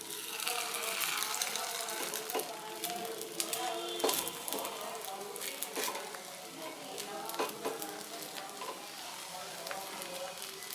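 Coconut obbattu (puran poli) cooking on a hot tawa, a steady soft sizzle running throughout with occasional light clicks and scrapes close by.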